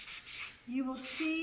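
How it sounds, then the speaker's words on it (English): A medium Annie Sloan sanding pad rubs over dried paint on a piece of furniture in short, close scratchy strokes, while someone talks over the sanding. "this is a medium, Annie Sloan medium sanding pad"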